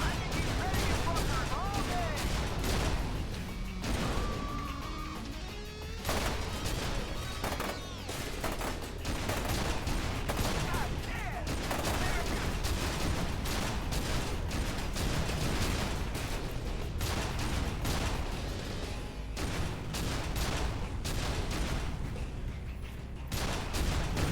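Turret gunfire roars in the video game F.E.A.R. 2, dense and loud, with rapid automatic bursts running almost without a break over more than twenty seconds while voices talk underneath.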